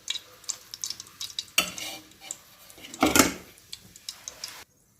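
Mustard seeds, cumin and fennel are tempered in a pan for brinjal gravy: scattered light scraping and stirring, with two sharp, loud crackling sizzle bursts close by, then sudden quiet.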